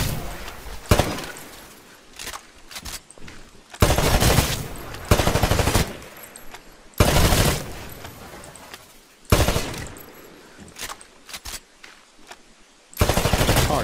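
Bursts of automatic gunfire in Titanfall as weapons shoot out targets on a shooting range, several loud sustained volleys separated by short quieter gaps with lingering echo.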